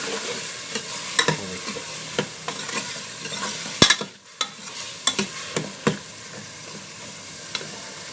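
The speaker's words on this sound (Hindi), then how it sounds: "ये हमने चने डाल दिए। इसको हम अच्छे तरीके से भून लेंगे।" Soaked white chickpeas frying and being stirred in a spiced masala, a steady close sizzle broken by scattered sharp scrapes and clatters of a spoon against the pan, with no voices.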